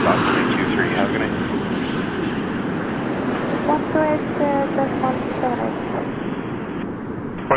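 A WestJet jet airliner takes off at Toronto Pearson Airport, a loud, steady engine roar filling the scene with wind-like rushing, while radio chatter from air traffic control runs over it.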